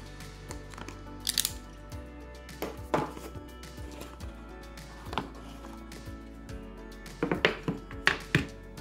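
Blade slices through the top and bottom of a Samsung Galaxy phone box, quiet scattered clicks, snips and sharp cardboard crackles spread across several seconds with small handling thuds between them.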